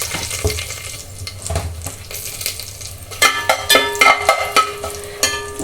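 Green chilies are added to hot oil and ghee with cumin, fennel and curry leaves for a fish curry, sizzling steadily while a spoon stirs and scrapes the pan in sharp close clinks.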